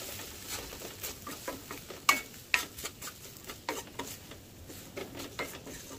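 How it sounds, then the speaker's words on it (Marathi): Lemon rice being gently stirred in a pan, giving soft scraping and patting sounds from a spoon against the metal in an irregular rhythm, with faint light sizzling and a couple of sharper utensil clinks. "भात हलक्या हाताने असा मिक्स करून घ्यायचा आहे।"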